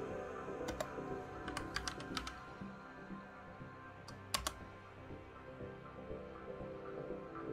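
Clicks from a computer keyboard while playing Tetris Effect, with short bursts of keystrokes around the start and again near the middle, faint and close over a low background hum.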